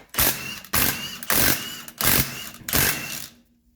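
Power tool bursts while the wheels come off a 1985 Mercedes 300CD: five loud, evenly spaced whirring pulses, each about half a second long, with brief pauses between them, close by and with no talking.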